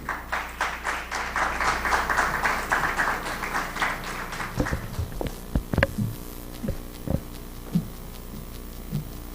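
Audience applause welcoming Dr. Silvia Oporto to the table, a broad wash of clapping for the first half that thins out into a few scattered, sharp claps and some shuffling over a low steady hum.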